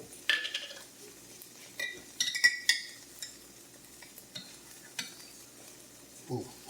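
Diced jalapeno tossed into a hot pan for a lentil shepherd's pie, giving a soft, close sizzle broken by several sharp clinks and scrapes of a utensil against the pan.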